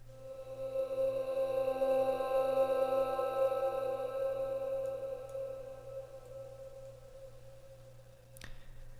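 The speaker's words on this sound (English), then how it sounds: "sounds like some type of futuristic vehicle driving by." A sustained, tonal synthetic hum from the Uncanny Dreams sample pack evokes a futuristic vehicle passing, swelling and slowly fading over about nine seconds with a low steady drone beneath and a sharp click near the end.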